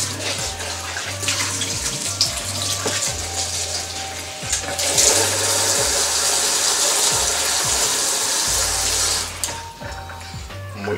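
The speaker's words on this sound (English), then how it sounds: "you fill up your container with water" Water runs steadily from a tap into a container for banana porridge prep, a continuous close splashing rush with a few knocks and clicks underneath, swelling louder midway.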